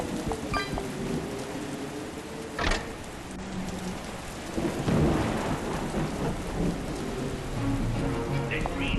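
Thunderstorm with rain from the video game Five Nights at Freddy's: Help Wanted, a steady loud downpour with a sharp thunder crack early on and a rolling rumble building midway.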